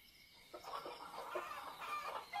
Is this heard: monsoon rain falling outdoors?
no